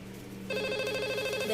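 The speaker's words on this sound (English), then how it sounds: "It's ringing." A simulated phone rings on a call in Cisco Packet Tracer, a steady electronic ringtone starting partway in and holding at even loudness, with no talk over it.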